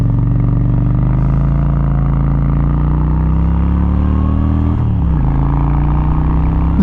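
Engine of a 1998 Honda Shadow Ace motorcycle revving and idling close by, a steady loud rumble whose pitch slowly rises and then dips near the end, with no talk.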